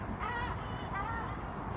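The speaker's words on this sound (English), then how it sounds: "But you can hear that seagull." A seagull calls twice outdoors in Manchester, its harsh honking cries fairly faint and distant over steady low background rumble.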